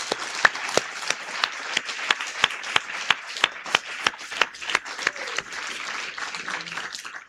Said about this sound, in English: give a round of applause to the people who have done something